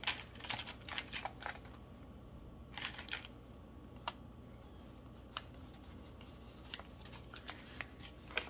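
Paper clip slid onto a notebook page at a craft table: a series of faint, sharp clicks and light paper rustles, close and quiet, scattered irregularly, with no talking.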